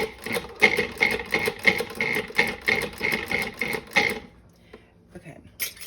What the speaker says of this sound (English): I'm going to put the lid on and kind of just give it a little mix.